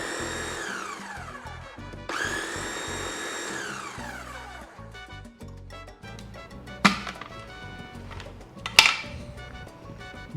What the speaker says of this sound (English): now I'm just going to hold down the pulse button and let it run for a few seconds